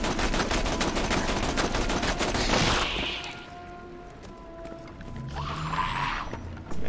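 Rapid bursts of automatic gunfire in the video game Tiny Tina's Assault on Dragon Keep, dense and loud for about three seconds, then quieter in-game sounds and a short burst near the end.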